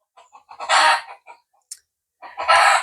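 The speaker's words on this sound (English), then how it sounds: "the chickens are calling to be fed." Chickens cluck nearby and a rooster crows in two loud, harsh bursts separated by a short pause.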